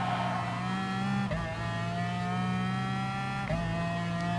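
McLaren race cars roar around a circuit in Gran Turismo Sport, a steady high engine drone with layered harmonics and brief dips as gears shift or the throttle lifts, with no talking.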